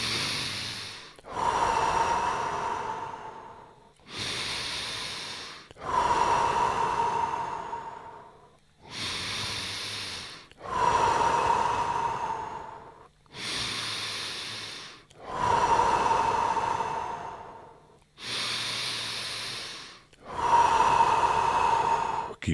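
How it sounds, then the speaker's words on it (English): Deep, steady breaths cycle repeatedly over a long stretch, each a drawn-in nasal inhale followed by a long audible exhale through the mouth, close and even in rhythm during a guided breathing session. "Start breathing deeper. Nose in, mouth out."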